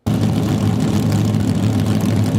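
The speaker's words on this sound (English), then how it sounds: "A NASCAR stock car with a 358 cubic inch engine capable of reaching speeds of 200 miles per hour" A NASCAR stock car with a 358 cubic inch engine at Pocono Raceway gives a loud, continuous low drone that starts abruptly and holds steady throughout.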